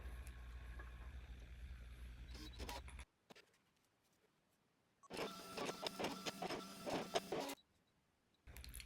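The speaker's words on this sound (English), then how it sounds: "I just put it in my brother's scanner cut, and it just start cutting it right away." A Brother ScanNCut machine cuts vinyl in two bursts of whirring motor and carriage movement, separated by a quiet pause. The whole thing is fairly faint and has no speech.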